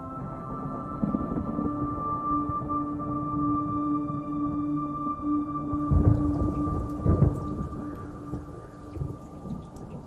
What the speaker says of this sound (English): Tremendous storms.